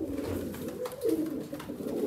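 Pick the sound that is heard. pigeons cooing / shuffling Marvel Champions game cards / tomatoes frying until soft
pigeons cooing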